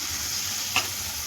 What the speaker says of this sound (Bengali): এবার মশলাটাকে আরেকটুখানি ভালো করে কষাবো।